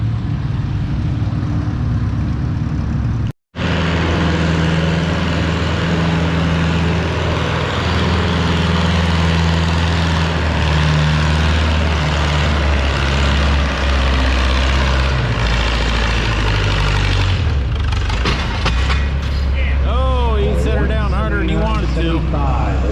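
A tractor engine roars at a tractor pull, a loud, sustained low drone with steady harmonics that drops out briefly near the start and shifts toward the end, with announcer talk over it.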